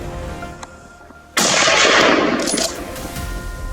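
A single loud rifle gunshot fired at a wild boar cracks sharply after a quiet outdoor moment, then rolls away in a long fading echo.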